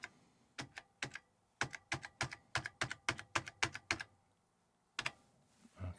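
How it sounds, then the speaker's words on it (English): Keys on an Apple IIc computer keyboard being typed, a quick run of crisp, close clicks in an uneven rhythm, then a pause and two more scattered keystrokes in an otherwise quiet room. "So let's check the keyboard."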